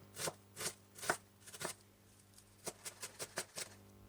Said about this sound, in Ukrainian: Тепер дрібненько нарізаю цибульку до засмажки